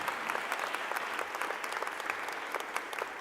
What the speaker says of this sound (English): yeah, we should clap that